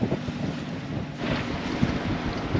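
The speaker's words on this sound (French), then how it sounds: "Toujours entre 21 et 25 nœuds" Strong wind of 21 to 25 knots roars steadily across a sailboat's deck off Greece, with continuous gusting buffeting the microphone and no voices.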